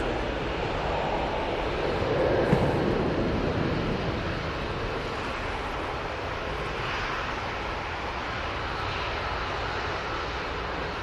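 A plane on its takeoff roll at Manchester Airport sends out a steady, broad roar of engine noise, fairly loud and even throughout, with a wind-like wash and no voices.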